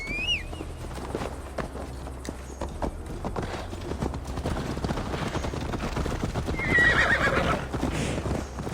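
A horse in Assassin's Creed Valhalla clip-clops along with a continuous rhythm of hoofbeats and gives a short whinny early on and another near the end, the ride loud and close throughout.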